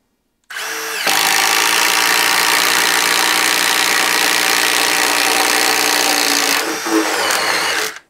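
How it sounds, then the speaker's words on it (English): A Milwaukee M18 Fuel impact driver runs in one close, loud, continuous burst that starts abruptly, holds steady for about seven seconds, then winds down and stops. "And now the standard M18 fuel impact driver."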